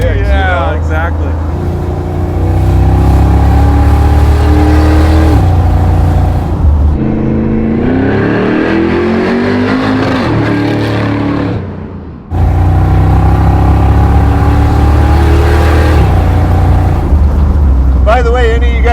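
Engine of a budget-built V8-swapped Jeep Wrangler burnout machine, heard from inside, loud and continuous with rising revs and a brief dip near the end, with people talking over the roar.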